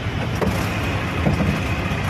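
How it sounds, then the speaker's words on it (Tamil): Inside an auto rickshaw stopped in traffic in Tambaram, a steady rumble of idling engines and road noise surrounds the cab, with no talk. "ஆட்டோவில் தான் போயிட்டுருக்கோம். இப்போ டிராஃபிக் நிற்குது."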